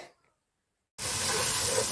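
Chopped onion hitting hot oil left from frying sausage, a sudden loud, steady sizzle that bursts in after a quiet moment and keeps hissing close up.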